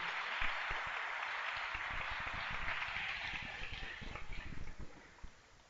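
A church congregation claps through a steady, dense round of applause that thins toward the end, with a few louder individual claps standing out close by.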